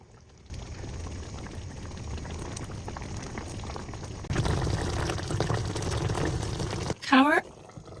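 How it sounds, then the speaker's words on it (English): Sauce for cheesy Korean ribs is poured into a pan and heated to a boil, heard as a steady bubbling hiss that grows louder midway, followed by a brief high, voice-like chirp near the end. "Now pour in the remaining sauce and bring it into a boil."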